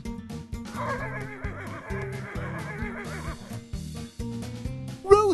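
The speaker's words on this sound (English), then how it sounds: "A horse!" A horse neighs near the end, a short rising whinny over a bouncy children's song with a steady beat playing throughout.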